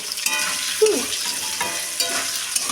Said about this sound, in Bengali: সমস্ত সবজিগুলোকে আমি ভেজে নেব হালকা করে।